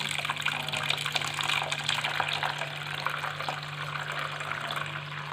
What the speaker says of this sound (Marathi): यामध्ये आपण असं वरचं वरचं पाणी ओतणार आहोत